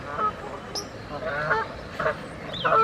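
Short, nasal honking calls from a coot on a small park pond, several in a row, close and moderately loud over a background of outdoor rumble.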